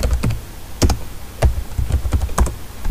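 Quick keystrokes on a computer keyboard, a short burst of separate taps with small pauses between them, close and clear with no talking.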